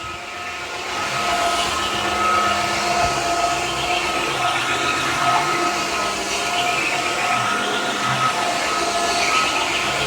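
A Dreame H15 Pro wet-dry vacuum mop runs in turbo mode on a chocolate-syrup mess, giving a steady loud whirring hum with a high whine that holds evenly throughout.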